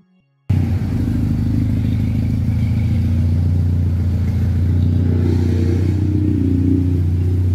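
Nissan Sentra B13 idling with its engine and aftermarket exhaust, a steady deep rumble that starts abruptly and holds close and loud throughout, with no talk over it.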